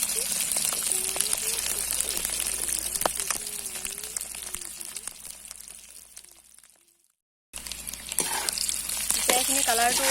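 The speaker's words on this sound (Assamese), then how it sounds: "এতিয়া তেলখিনি গৰম হোৱাৰ পাছত এনেকে ডিমকেইটা ফ্ৰাই কৰি ল'ব" Eggs frying in hot oil in a pan, a steady crackling sizzle that fills the clip, with a voice talking over it and a brief silent gap before the sizzle returns loud and close.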